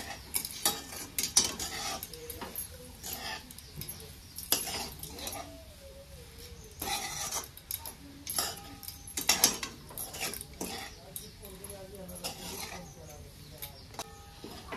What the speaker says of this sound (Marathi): सगळी भाजी एकदा नंतर हलवून घ्यायची